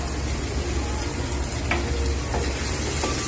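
A food mixture with salt and sugar stirred in a hot pan, giving a steady loud sizzle with occasional scraping strokes from the utensil, no voices.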